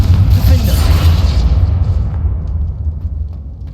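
A Confringo fire spell from the Hogwarts Legacy video game blasts with a deep booming rumble that fades out over a few seconds, with a voice shouting over the start.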